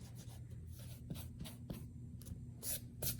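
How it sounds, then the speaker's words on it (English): An eraser rubs across a board with faint, soft scraping strokes that come in short bursts over a low background hum, with no talking. "Let's erase these lines here."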